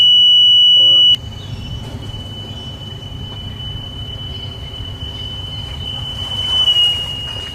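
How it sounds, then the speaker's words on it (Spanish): An electronic buzzer mounted on a moving bicycle gives a steady high-pitched tone that persists through the clip, its pitch shifting slightly as it passes, over faint background rumble with no talk. "Ese es el zumbador."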